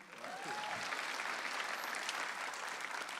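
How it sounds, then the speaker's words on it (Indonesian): An audience claps steadily through a stand-up comedy roast show, a dense, even wash of applause with a brief cheer-like whoop near the start. "beri tepuk tangan dulu buat mantan juri kita,"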